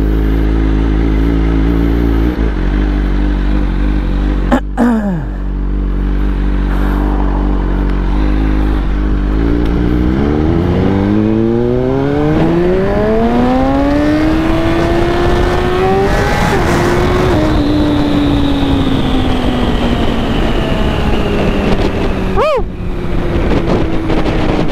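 A BMW S1000RR sport motorcycle with a full carbon build rides through a downtown street at night, its engine revving up through rising pitch sweeps and shifting gears, loud and close with steady wind buffeting the microphone.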